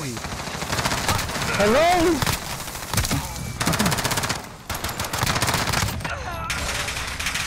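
Rapid machine gun fire in a video game shooter comes in long crackling bursts with short pauses, and an excited voice talks over the shooting.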